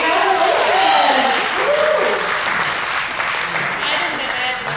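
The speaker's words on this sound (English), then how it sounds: "Give another round of applause for our winners tonight." Guests at a Fairfield City Council re-election campaign evening applaud the award winners, a full round of clapping with voices and cheers rising over it early, then settling into steady applause.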